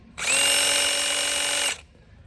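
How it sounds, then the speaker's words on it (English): A 20-volt DeWalt cordless drill fitted with a power nibbler attachment cuts sheet metal in one loud, close burst of steady high-pitched whirring and chattering lasting about a second and a half before stopping abruptly. "this attachment that you see here on the end of it is like power nibblers essentially"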